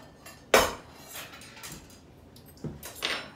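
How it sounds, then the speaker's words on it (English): A spoon clinks and scrapes against a bowl while a tuna salad mixture is stirred, with one loud knock near the start and a few lighter scraping clatters after it. "we're gonna stir it"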